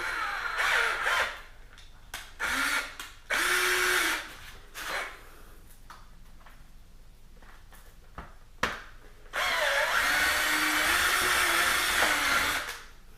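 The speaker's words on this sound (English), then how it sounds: "I'm going to have to drill them out just a little bit bigger" A power drill enlarges holes in a plastic motorcycle fender eliminator and license plate holder. Several short, fairly close, high whirring bursts are separated by pauses, and a longer run comes near the end, with no talk.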